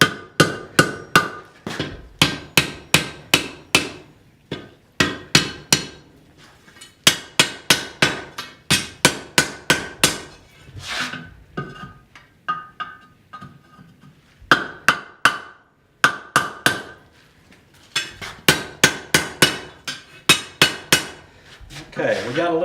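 Blacksmith hammering hot iron on an anvil while forging a tripod, loud close ringing blows in quick rhythmic bursts separated by short pauses, with brief speech in between.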